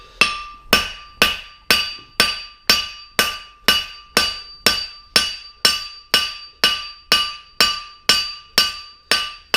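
A hammer striking a horseshoe caulkin on an anvil during forging gives about twenty bright, ringing blows in an even, steady rhythm. Each ring is loud and close and decays between strikes, with no talking.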